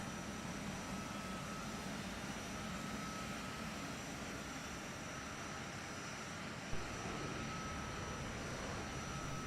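A plane's engine roars in a steady, even drone through a takeoff run in the Warlords Redux video game. It is fairly faint and continuous, with one small bump near the end and no voices.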